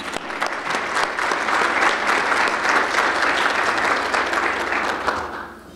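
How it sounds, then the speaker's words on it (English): Steady applause from an audience, dense clapping that holds at an even level for several seconds before easing slightly at the end. "Please give them a round of applause"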